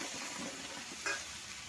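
Water goes into a pan of sizzling spiced prawn and green plantain curry, giving a soft, quiet frying hiss and one brief splash-like burst partway through.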